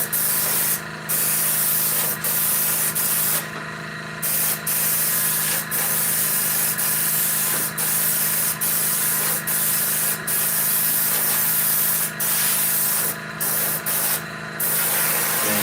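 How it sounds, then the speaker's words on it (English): A wooden blade, one with super glue on it, being sanded by hand in steady, close rasping strokes over a constant low hum, with several brief sharper bursts of friction. "definitely sanded more on that one blade"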